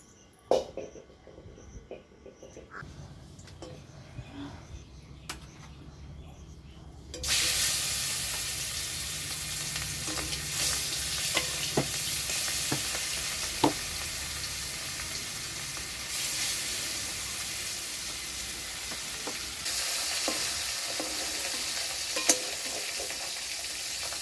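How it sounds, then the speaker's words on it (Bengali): Quiet clinks and handling at first, then a loud, steady sizzle of hilsa fish frying in hot mustard oil in a kadai, continuing with occasional pops and spatters. "এবার সর্ষের তেল দিয়ে দিচ্ছি।"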